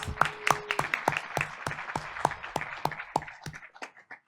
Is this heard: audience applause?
yes